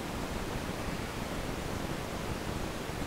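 Synthesizer noise generator with the decay turned fully up, producing a solid, massive, steady broadband hiss that holds constant throughout at moderate level, with no voices.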